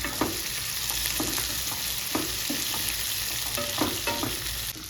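Curry leaves and paste fry in a tempering of hot oil for a capsicum ennegayi, making a close, steady sizzle broken by regular scraping stirs.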